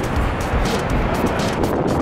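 Steady outdoor wind buffets the microphone on a cold, blustery day, a broad continuous rumble and hiss that swells and eases slightly throughout with no clear voices.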